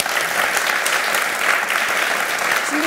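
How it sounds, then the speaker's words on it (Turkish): A studio audience claps through a televised Survivor panel show, a dense, steady roll of applause throughout with no talk over it. "Alkış olsun."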